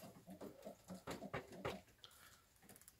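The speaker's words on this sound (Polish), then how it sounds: "Gołąbki dopominają się o jedzenie" Homing pigeons in a loft coo softly while begging for food, a few low burbling calls close by and fairly quiet, with no voices present.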